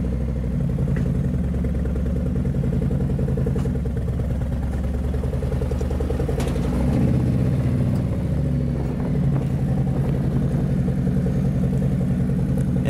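A motorcycle engine runs on light throttle while being ridden up onto a trailer, a loud, steady, close rumble with a fine mechanical pulse that swells slightly midway and continues throughout.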